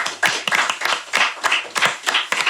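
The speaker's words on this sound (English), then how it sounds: "Let's clap hands for your fan base." Hands clap in an uneven, rhythmic burst in a podcast interview studio, a few people clapping close by for a couple of seconds.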